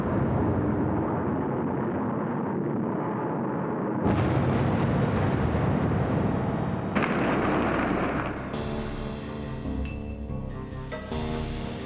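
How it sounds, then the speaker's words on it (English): A Vanguard rocket explodes shortly after launch, giving a heavy, rumbling roar with sudden booming bursts and crackling blasts that keep rolling for several seconds. "This Vanguard rocket exploded within seconds of launch."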